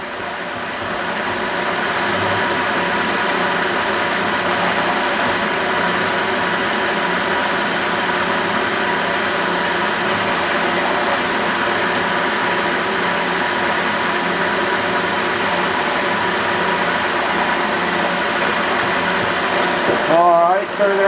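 A milling machine runs steadily while drilling a series of holes in a workshop. Its loud, constant motor whine holds for about twenty seconds with a sustained high tone, then shifts briefly near the end.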